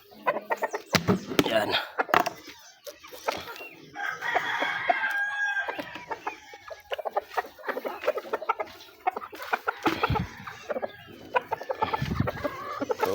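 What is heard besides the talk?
chicken clucking and crowing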